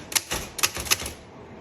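Vintage 1938 Groma S typewriter with a QWERTZ keyboard typing in red, giving a quick run of about five crisp, close mechanical key strikes followed by a brief quiet pause.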